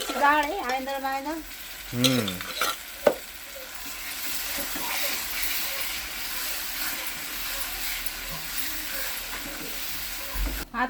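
Urad dal tipped into a hot pan of oil, giving a low, steady sizzle of frying through most of the stretch, with a few clanks of utensil on pan near the start and a voice briefly at the opening.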